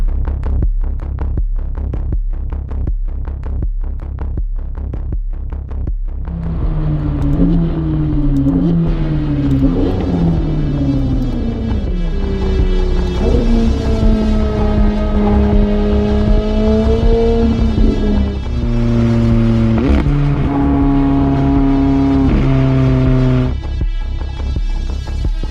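A 765-horsepower car engine being run in during break-in, idling with a throbbing pulse before rising through a series of loud, sweeping revs that climb and fall, close up and alone.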